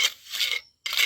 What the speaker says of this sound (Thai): ปาดปูนนะครับ